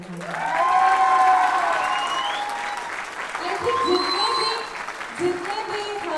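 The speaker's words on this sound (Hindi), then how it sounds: "तो एक बार सर के लिए जोरदार तालियां।" Enthusiastic applause from the audience at the grand launch of Makeup Mantra, with voices and cheering layered over continuous clapping that swells early and then carries on at a lower level.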